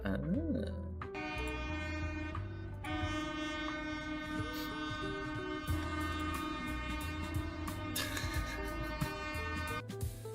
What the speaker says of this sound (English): Look at that. That little train. A tiny little train.